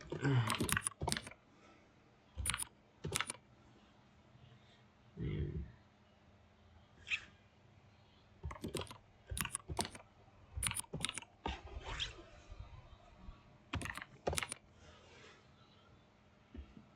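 Computer keyboard typing during a PHP coding lesson, bursts of quick clicking keystrokes separated by pauses, fairly quiet, with occasional low thumps between.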